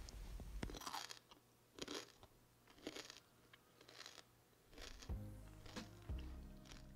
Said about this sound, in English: I know you heard the crunch